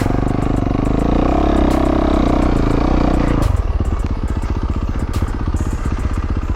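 A Yamaha YZ450F dirt bike engine roars loudly and close on a trail, then drops to a rapid, choppy putter, with occasional clattering knocks over the engine and no talking.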